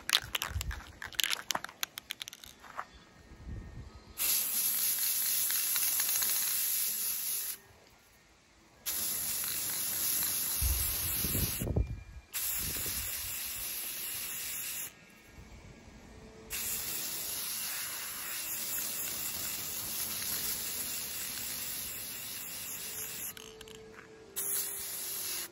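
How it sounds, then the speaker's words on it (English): A spray paint can hisses over hydrangea flowers from the garden, applying white and red paint in several long close bursts separated by short pauses, with handling rattles between sprays. "We're gonna spray this one white."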